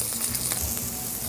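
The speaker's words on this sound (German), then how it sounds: "Gebratene Langustinen. Und Sie werden sie anbraten." Langoustines sizzle steadily as they pan-fry flat in a hot pan, a continuous close crackling hiss.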